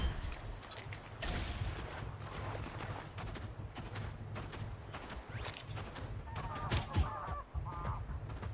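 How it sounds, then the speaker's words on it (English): A goose mount in the video game Dragonsword Awakening honks several times amid a busy, steady game soundscape with scattered clatter, the honks clustered toward the end. "The goose mount. Right, goose."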